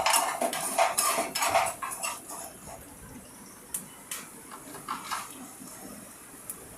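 Spices and turmeric being mixed in a pan for okra fry, with a flurry of metal spoon clinks and scrapes against the pan at first, then fewer, quieter taps, and faint background noise.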